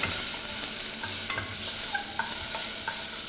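Onions sizzle and crackle in hot oil in a one-pot mopane worm chili sauce, with a bright, continuous hiss, while a utensil clinks and scrapes against the pan now and then.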